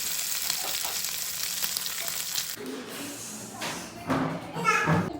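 Prawns frying in a home kitchen pan give a steady hiss and sizzle with occasional stirring clatter, while children's voices and chatter carry on close by through the latter half.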